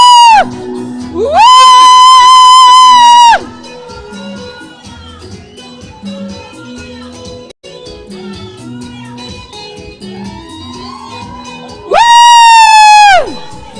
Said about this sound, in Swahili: Haya makofi ya Yesu. Wapi nduru ya Yesu?